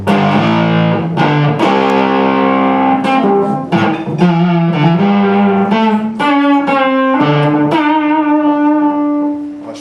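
A distorted electric guitar with a bridge Bulldog pickup plays a run of loud, crunchy, punchy mid-range notes and chords, close and continuous with no voices.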